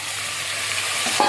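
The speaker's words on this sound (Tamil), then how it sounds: "நல்லா வதங்கட்டும். வெங்காயம் நல்லா வதங்கிடுச்சு." Small whole onions sautéing in a pan for dal rice, a steady broadband sizzle with soft stirring scrapes near the end, close and fairly loud with no talking.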